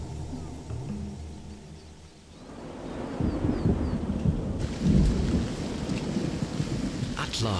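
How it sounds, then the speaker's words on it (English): A seasonal thunderstorm in the Kalahari sweeps in as a dense hiss of rain, with heavy rolling thunder rumbling through the downpour, building from a lighter patter into a steady, loud soaking. "the much-anticipated rains have arrived"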